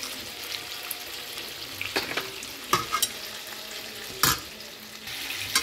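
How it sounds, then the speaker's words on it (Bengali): Dry fish (lote sutki) frying in a pan with cumin powder, stirred with steady sizzling and repeated scraping strokes of a spatula, close and moderately loud, with no talk. "এবার এটা ভালো করে একটু কষাতে হবে।"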